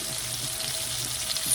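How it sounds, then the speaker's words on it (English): Chicken sizzles in a hot frying pan, a constant close hiss of spitting oil with faint crackles underneath, steady throughout with no talking. "Chicken is frying pretty good in here."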